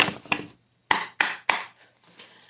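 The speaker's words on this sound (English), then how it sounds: "Do a quick shuffle." An oracle card deck being quickly shuffled during a live tarot reading, a few sharp, close slapping and riffling bursts separated by short silences.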